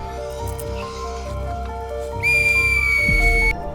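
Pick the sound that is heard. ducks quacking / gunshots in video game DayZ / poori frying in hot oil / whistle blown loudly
whistle blown loudly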